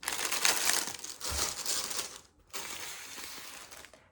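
A plastic yarn package crinkles as it is opened with scissors for crocheting, producing bright, crackly rustling in bursts with a brief pause, close and alone.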